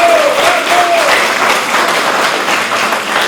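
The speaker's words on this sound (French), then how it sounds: "place maintenant à des applaudissements appuyés pour tout ce monde de bénévoles" Sustained applause from a crowd at a Mauritanian diaspora political campaign meeting, honouring the volunteers, with dense clapping that stays loud and steady throughout, a brief whistle-like tone near the start.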